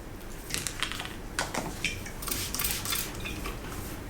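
Several quick hissing bursts from a spray bottle misting hair, close by, separated by short pauses over a steady background hiss.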